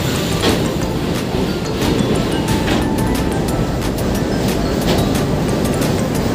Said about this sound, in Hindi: आप मेरे जस्ट ऊपर से इस टाइम ट्रेन जा रही है।